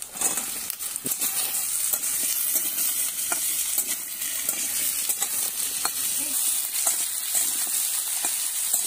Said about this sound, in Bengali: তো এখানে একটা আলুটা নেড়ে চেড়ে নিলাম